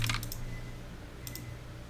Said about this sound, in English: And just try typing.